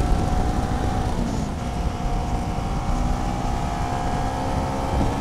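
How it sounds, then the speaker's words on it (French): A Voge 500R motorcycle carrying two riders, its engine droning steadily and worked hard while riding, mixed with constant rushing wind noise and no talking. "Forcément, le moteur, faut le cravacher un petit peu plus"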